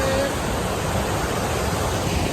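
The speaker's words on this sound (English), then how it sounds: "I don't know if you can hear me over the gargantuous waterfall" High Falls Park's waterfall roars as a dense, constant wash of water noise, loud and close, with faint voice traces buried beneath it.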